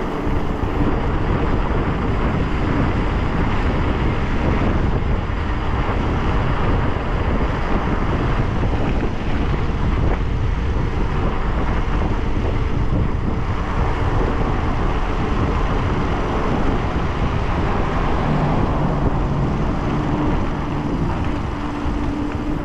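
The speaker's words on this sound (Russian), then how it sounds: "Солнечный день, да, но ветер, падла." Strong wind buffets the microphone on a sunny coast road in Crimea between Yalta and Nikita in February, a steady loud roaring rumble with gusting swells throughout and no talking.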